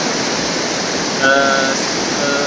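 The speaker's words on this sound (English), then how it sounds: "Yeah, this is a waterfall." Waterfall in Krka National Park, Croatia, giving a steady, loud broadband rush of falling water that fills the whole stretch without pause.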